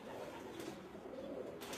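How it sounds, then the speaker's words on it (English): Racing pigeons in a Taiwanese loft coo softly in a low, steady murmur with faint background noise. "It's August, and Tai needs to select all the birds to mate now"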